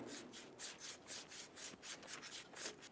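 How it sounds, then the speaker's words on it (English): Light abrasive scrubbing surface rust off a rear brake spindle on a 2000-2007 Ford Focus: quick, even back-and-forth strokes, about four or five per second, close and steady with no talking. "Using a light abrasive, we're going to clean the spindle."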